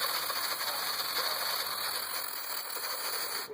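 Shisha hookah chamber being purged, a steady rushing, gurgling hiss with a faint mechanical rattle, continuous and close for a few seconds before tapering at the end.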